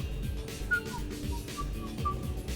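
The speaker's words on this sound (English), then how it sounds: "Are you whistling?" Whistling by a character during a party scene on the Citadel in Mass Effect 3, a few short tuneful notes drifting over a low background hum and music bed, no talk.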